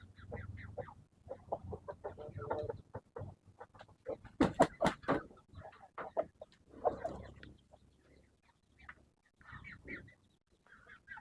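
Tanaka breed chickens clucking and calling in a backyard, a busy run of close clucks with a louder burst of squawks in the middle, then scattered softer clucks.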